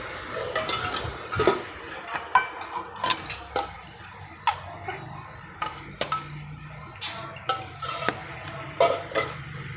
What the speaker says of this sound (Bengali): দেখো দিয়ে লুচি ভাজা হচ্ছে এখন।